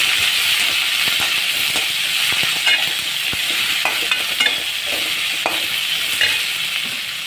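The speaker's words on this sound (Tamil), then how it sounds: "வெங்காயம் போட்டு நல்லா வதக்கிக்கோங்க" Onions and curry leaves sautéing in a pan for a red pumpkin and pea kootu, a loud continuous sizzle with steady stirring and occasional spoon scrapes and pops throughout.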